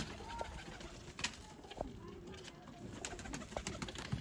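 Pigeons coo softly in a loft, low rolling calls recurring amid faint rustling and background noise, with a voice murmuring now and then.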